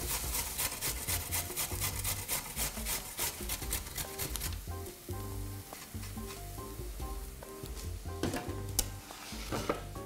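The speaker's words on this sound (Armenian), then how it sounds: "Այ գազարն էլ կարելի է քերել։" A carrot is grated on the coarse side of a grater in a home kitchen, giving steady, close scraping strokes in a quick repeated rhythm that later turns to softer rubbing. No one speaks.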